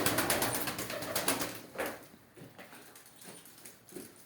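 Pet pigeons, red-marked smoky-coloured birds kept at a village loft, cooing softly, with a few low, faint, repeated coos fading out amid quiet background.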